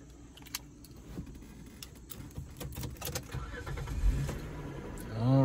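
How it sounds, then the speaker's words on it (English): A car engine cranks and turns over near the end, after car keys jingle and rattle at close range during a few seconds of handling noise. "I'm gonna turn on the car."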